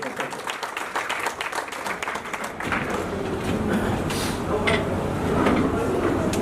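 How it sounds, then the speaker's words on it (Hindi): At a Haryana state convention, an audience applauds to welcome a speaker to the stage, many hands clapping loudly and continuously, with a shuffle and murmur as the clapping thins into room noise. "जोरदार तालियों से स्वागत है।"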